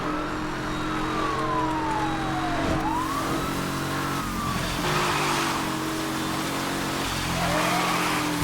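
A car engine in Need for Speed: Hot Pursuit (2010) drones steadily at around 300 km/h in rainy weather, with pitch sweeps as it shifts gears, joined briefly by tire squeal and a faint siren-like tone.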